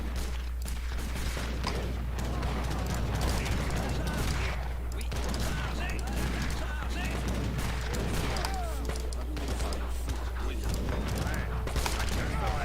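Howitzer and gunfire in Age of Empires 3, a dense continuous crackle of shots and impacts under a steady low hum, with unit voices speaking amid the battle.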